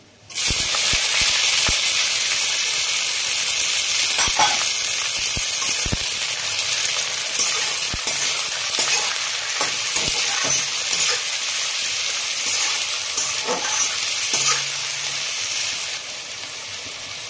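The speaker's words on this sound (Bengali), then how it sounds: "এরপরে আমি পেঁয়াজগুলো দিচ্ছি" Onions sizzle and fry steadily in a pan in a Bengali home kitchen, a continuous broadband hiss with occasional stirring clicks and scrapes, close and fairly loud throughout, easing slightly at the end.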